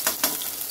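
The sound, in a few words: onion and chili frying in oil in a wok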